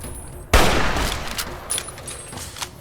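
A sudden loud crack of gunfire in the video game Fallout New Vegas, followed by a rumbling decay and a few fainter impacts and clicks.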